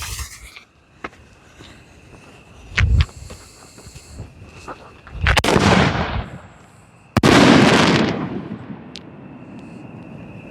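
Pyro Alienware canister shell fireworks launch and burst outdoors at night, several sharp thumps and pops building to loud booming explosions with crackling tails that fade away.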